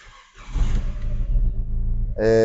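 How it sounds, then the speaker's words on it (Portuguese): A Peugeot 208 or Citroen C3 with the 1.2 PureTech EB2 engine cranks and fires, the starter whirring before the engine catches and settles into a loud, steady idle, close up with no talk. "a gente vai dar partida no carro para poder ligar o ar-condicionado"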